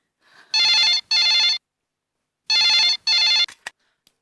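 A telephone rings in two loud double bursts with a pause between them, followed by a couple of faint clicks, in a quiet indoor scene from a Marathi comedy serial; no one speaks.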